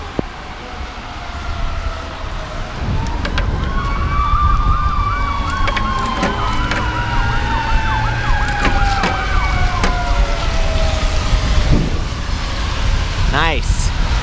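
A wailing ambulance siren sweeps up and down as it passes by, loud and steady over road and wind noise, fading near the end.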